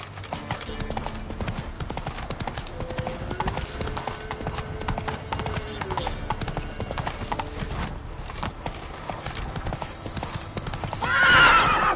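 Roach, a horse in The Witcher video game, gallops steadily with continuous rhythmic hoofbeats, a whinny rising near the end over ambient background.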